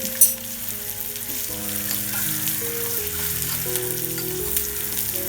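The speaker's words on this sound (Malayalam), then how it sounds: "അതിനുശേഷം അതിനകത്തോട്ട് തന്നെ ഈ ഉള്ളിയും കൊച്ചുള്ളിയും" Onions and small shallots fry in a pan with fenugreek, cumin powder and dried red chillies for a Kerala stingray fish curry; a close, constant sizzle runs beneath some background music, with one brief knock near the start.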